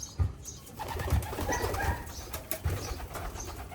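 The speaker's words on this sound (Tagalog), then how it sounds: "Ayan, si Darna, may papisa din, mga kalapatids" Domestic racing pigeons coo in a loft, soft throaty rolling calls repeating at close range amid light rustling and background chatter from other birds.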